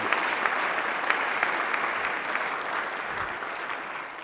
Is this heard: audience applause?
yes